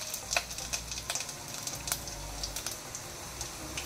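Mustard seeds, fenugreek and a little ginger crackle in hot oil for a Kerala curd curry: a steady quiet sizzle broken by sharp, scattered pops and snaps, close up and with no talk.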